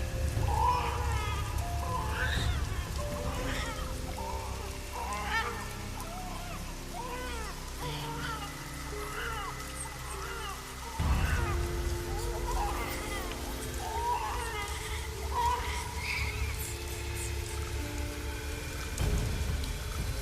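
Steady heavy rain pours down beneath a voice talking throughout, with a faint rumble of thunder in the background.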